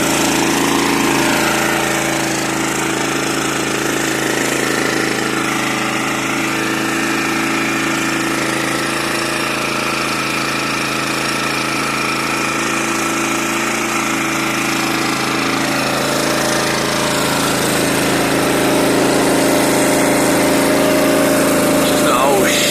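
Small engine running continuously with its exhaust partly closed off for extra back pressure, a loud, harsh, rattling drone with a steady high-pitched tone that holds through the whole stretch, close and unbroken.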